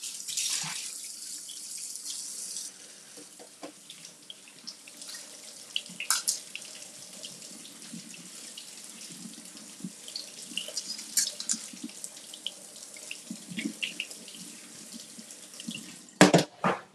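Shrimp rinsed under a running kitchen faucet, a steady hiss of water into the sink with splashing shifts as the shrimp are handled, then brief louder clatter near the end; close, no talk.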